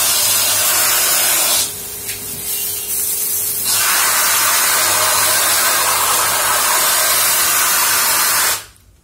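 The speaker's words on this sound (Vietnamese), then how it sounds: "Mình bóp này cực mạnh luôn." A 12V, 230W portable pressure washer pump sprays water at full power through a short spray gun, giving a loud, steady hiss that drops briefly partway through before resuming, with a motor hum underneath and an abrupt stop at the end.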